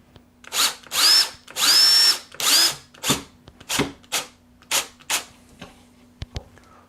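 A power drill drives a screw into an Arcade1Up arcade cabinet during a mod build. It gives several close, loud whirring bursts, first longer then shorter and choppier, with no talking.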